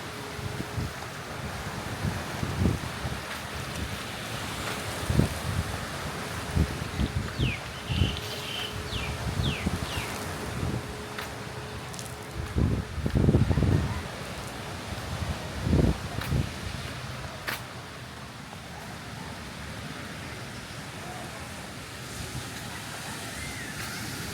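Steady wind blowing across a tropical beach on Koh Samet, with broad rushing noise and occasional gusts and buffeting thumps against the microphone throughout, with faint surf in the background.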